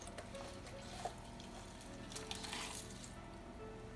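Tap water runs steadily into a kitchen sink while a whole Thanksgiving turkey is rinsed out, a continuous wash of flowing water with a few small splashes and clunks, no talking.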